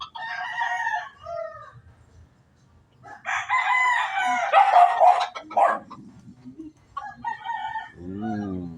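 Bantam rooster crowing nearby, several loud drawn-out crows separated by quiet gaps, with a short clucking call near the end.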